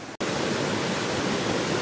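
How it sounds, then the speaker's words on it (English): A small waterfall in wet Scottish countryside pours into a pool, giving a steady, dense, loud rush heard close up after a brief cut at the very start. "So here's a waterfall here."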